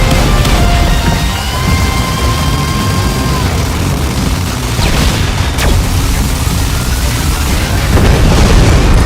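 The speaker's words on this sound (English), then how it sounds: "Watch out for explosions." Loud, continuous booming explosions in the shoot-'em-up game Raiden V roar one after another, with heavy low rumble and bursts of crackling debris.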